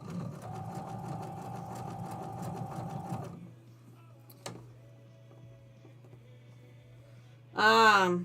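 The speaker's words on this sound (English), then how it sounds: "We are just about done basting this, and then we can actually put the walking foot on and start quilting." A sewing machine basting a quilt rattles in a fast, continuous stitching run for about three seconds, then stops and leaves a low hum; a brief voice speaks at the end.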